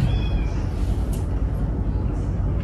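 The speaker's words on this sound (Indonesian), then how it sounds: "Kucingnya meong" A cat meows a couple of times close by, short high cries over a steady low rumble of background noise.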